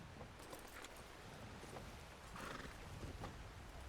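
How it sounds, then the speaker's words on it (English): A large group of horses in the Red Dead Redemption game world (RedM), with a dense, continuous rumble of galloping hooves and a neigh rising out of it, moderately close. "That is a lot of horses."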